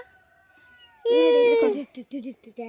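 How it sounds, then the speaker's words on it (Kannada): A cat gives a loud drawn-out meow, followed by a few shorter chirpy cries close by, after a quiet stretch with faint background tones. "ಇದು ಸುಜನ್ ಅವ್ರ ಮನೆ ಕ್ಯಾಟ್."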